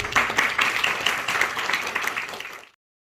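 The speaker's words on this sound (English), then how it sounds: "So big round of applause to them." A room full of people claps at a panel on the halal restaurant industry, dense steady applause at moderate volume that carries on evenly and then cuts off abruptly near the end.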